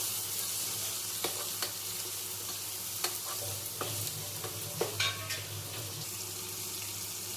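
Tomatoes and green chillies fry in a pan with a steady sizzle, broken by occasional scrapes and taps of a spoon stirring, close and alone with no talk.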